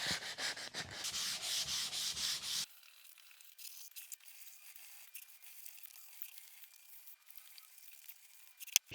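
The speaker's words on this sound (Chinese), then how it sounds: "我有用砂纸机跑过所以它可以磨得比较深" A sanding machine grinds across the surface of an old, century-old wooden roof beam, a loud rough whir for nearly three seconds before cutting off, leaving only faint scattered scraping and room noise.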